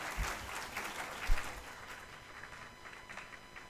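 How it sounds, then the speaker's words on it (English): Students at an Asia-Africa development conference clap briefly and fairly faintly, a short scattered patter from the audience that quickly thins out. "Students, you can clap if you want."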